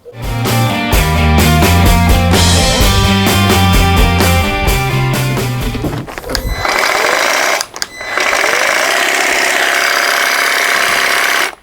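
A HYECHO 18V battery hedge trimmer buzzes loudly with a rapid mechanical chatter from its reciprocating blades, then shifts to a harsher, noisier whir with a brief dip as it cuts through growth, close up.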